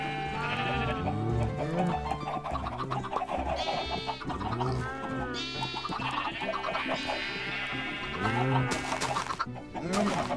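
Sheep in Minecraft bleat repeatedly in a pen, several overlapping wavering calls close by, with chicken clucks mixed in and faint talk underneath.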